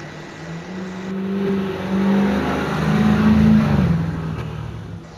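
A car engine revs and accelerates in Rainbow Six Siege, a rising, whining motor tone that swells and holds for several seconds at moderate loudness, heard alone without talk.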